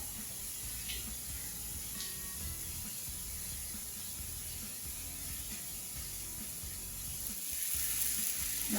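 Tomatoes cooking with pav bhaji masala and Kashmiri red chilli powder in a pan for street-style masala pav give off a steady, soft sizzle and hiss. The sound runs without a break, grows slightly louder near the end, and has no talk over it.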